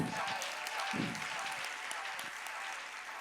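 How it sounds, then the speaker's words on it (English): At a motivational summit session, an audience applauds with sustained, even clapping from a crowd in a large room, fairly soft and distant, with a few voices rising over it. "Clap yourselves."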